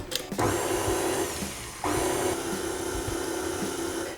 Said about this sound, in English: Now I'm going to mix it until it's smooth.